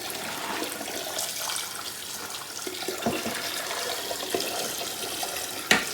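Boiled eggs plunged into a pan of cold water, giving a steady running, splashing water sound throughout with a sharper knock near the end.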